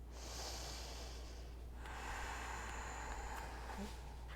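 A slow, deep breath taken during an online yoga class, a long soft inhale followed by a hushed exhale, close but quiet over a steady background hum.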